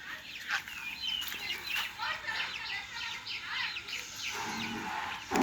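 Tiger chickens, about fifteen birds, kept on an agro farm cluck and chirp in a busy flock nearby, with repeated short calls throughout.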